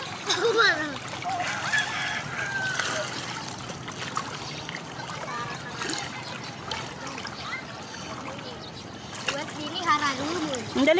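People swim in water at Bulusan, Sorsogon, with irregular close splashes and trickles throughout while several voices, including children, chatter over the top.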